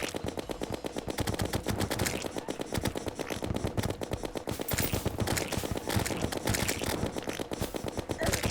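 Rapid musket fire in the video game Terraria: a dense, unbroken stream of sharp shots cracking in fast succession at steady volume.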